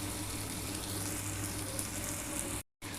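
Fritters of ground white sesame and poppy seed deep-frying in hot oil give a steady, dense sizzle close up, cut by a brief silent gap near the end.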